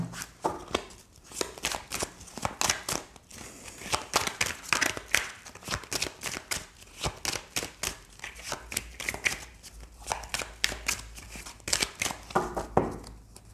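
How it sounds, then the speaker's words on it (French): A deck of oracle cards being shuffled quickly by hand, a steady run of crisp riffling flicks and slaps close up, continuous for the whole stretch with no talking. "Je vais prendre quelques cartes rapidement."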